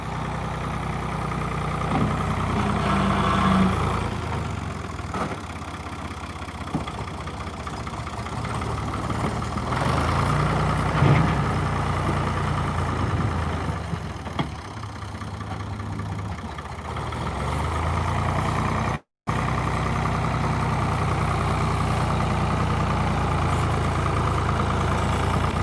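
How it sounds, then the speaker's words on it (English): A Case tractor idles on a farm with a failing wheel bearing, a steady low engine rumble with some mid-range mechanical noise running continuously and fairly loud, briefly cut out once near the end. "You guys able to hear the wheel bearing on it too? That's going bad"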